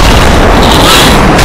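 Air strike explosions from a Call of Duty Modern Warfare 3 multiplayer match, a dense, sustained booming rumble filling the whole moment at loud volume with no clear gaps.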